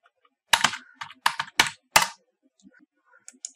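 Quick bursts of keystrokes clatter on a computer keyboard, several close clicks grouped in the first two seconds, then a few scattered light taps.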